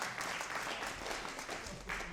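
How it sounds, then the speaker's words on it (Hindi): An audience at a comic poetry gathering (hasya kavi sammelan) claps in dense, sustained applause, moderately loud and continuous for the whole stretch without speech. "एक बार ताली बजाओ अपने सम्मान।"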